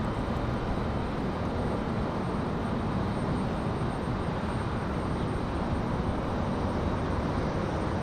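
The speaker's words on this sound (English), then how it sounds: "Perfect touchdown for the 737." An American Airlines Boeing 737-800 lands at Raleigh-Durham airport, heard as a steady, dense, distant roar of jet noise with no distinct peaks, unbroken for the whole stretch and free of talk.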